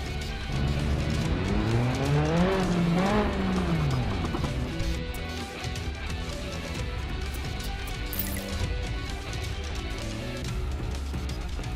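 A rally car in the Sébastien Loeb Rally EVO game drives on a dirt track in a training area, its engine revving and shifting up and down with steady tire and gravel noise.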